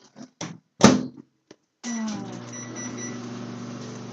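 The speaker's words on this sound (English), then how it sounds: "stick that in the microwave for 30 seconds" A few thumps and clicks, then a microwave oven starts up with a steady low hum and whir that continues to the end.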